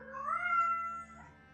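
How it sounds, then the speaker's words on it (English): Vega the cat gives a single drawn-out meow close by, rising then falling in pitch over about a second, followed by a brief softer trailing sound, with no talking. "supervising as always is Vega the cat"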